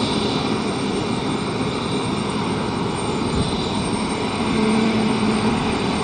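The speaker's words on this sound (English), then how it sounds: "this jet's been asked to do the turn on the runway" An Embraer E195-E2 jet turns on the runway at London City airport, a steady, loud engine roar with a continuous whine that holds without pause for several seconds.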